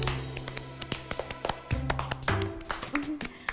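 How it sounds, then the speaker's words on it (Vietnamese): A family claps hands together in welcome at home, a quick, irregular patter of close claps from several people, with voices talking underneath. "Mình vỗ tay."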